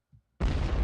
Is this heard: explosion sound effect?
yes